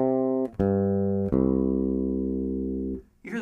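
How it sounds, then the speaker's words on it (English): An electric bass plucked over the back pickup with the front pickup turned down gives a few sustained, bright-edged notes with sharp attacks, each ringing steadily until the next pluck. "Now I'm going to do the same thing by turning down the front pickup and play it back here over the back pickup again."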